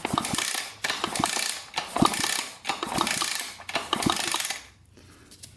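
A ratchet wrench tightens cylinder nuts on a Kawasaki KX250 dirt bike engine, rapid clicking bursts repeated in about five strokes with short pauses, close and alone, ending in near quiet.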